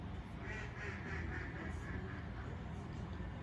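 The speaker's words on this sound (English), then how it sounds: "Sing it, duck." A duck quacks in a rapid run of nasal calls at moderate distance over steady outdoor background noise on a balcony, with no talk.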